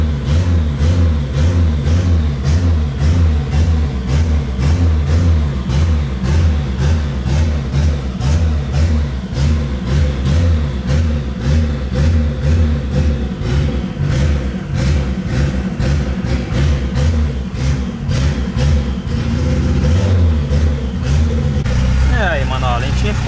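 A carbureted turbocharged VW Gol engine idles up close with a steady, rough low rumble and slight rhythmic pulsing, running continuously while someone talks over it.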